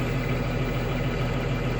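A spare bus's engine idles steadily through an exhaust regeneration with a high exhaust temperature, a continuous low rumble with a mid-range hum, close by and even in loudness, with no talking.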